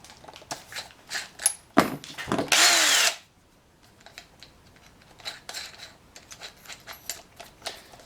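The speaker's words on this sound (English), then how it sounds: "Now I am going to use that 5/16 inch bit." Power drill boring with a 5/16 inch bit while building a 3D sphere: a loud, close whine lasting about half a second, surrounded by scattered clicks and handling knocks.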